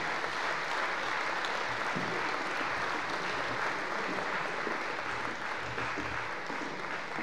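Large audience at a sustainable construction conference in Brittany applauds entrepreneurs as they arrive, a thick, continuous roar of clapping that stays loud and even throughout.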